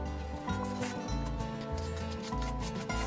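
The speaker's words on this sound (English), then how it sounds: "we're going to mud the length, and again we're using a V-notch trowel." A V-notch trowel spreads mud across a shower wall during tiling, making repeated scraping and rubbing strokes, close and moderately loud, with a rhythmic back-and-forth pattern.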